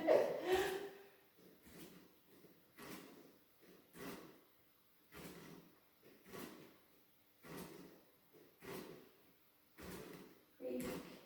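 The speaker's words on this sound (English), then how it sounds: "Very creaky chair." A creaky chair gives a steady series of short creaks, about one every second or so, close and fairly soft, during a gentle seated exercise routine.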